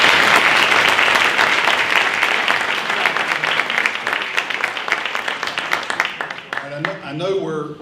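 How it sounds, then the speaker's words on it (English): Loud applause fills a room at a volunteer reception in Manassas, dense at first, then thinning into scattered claps before a voice starts speaking. "Give yourselves another round of applause."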